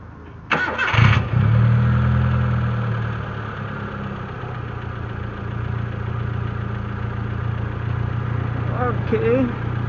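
A Proton Waja MMC automatic with a flashed ECU and high idle cranks briefly and fires up, then settles into a steady, loud idle with a low hum; a voice speaks near the end.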